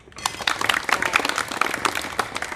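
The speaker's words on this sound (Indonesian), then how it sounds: "berikan aplaus dulu" A classroom of high school students applauds the first student group after a relay-running athletics lesson, a burst of many hands clapping nearby that starts abruptly and continues unevenly throughout.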